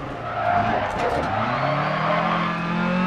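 A rally car in the Dirt Rally video game skids under the handbrake during a rallycross race, its engine revving and tires squealing in sliding swoops, with a voice talking over it.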